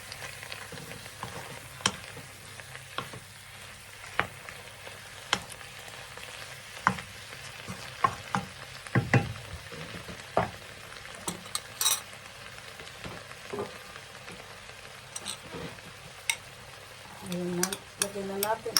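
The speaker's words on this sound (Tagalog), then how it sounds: "Lagyan na natin ang garlics para golden brown." Garlic sizzles and fries steadily in a pan for garlic rice, a continuous close crackle with occasional stirring clicks and scrapes throughout, no talking over it.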